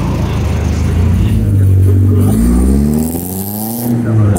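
Race car engine at full throttle on the dry Lausitzring circuit, a loud sustained roar that climbs steadily in pitch as it accelerates, close and continuous throughout.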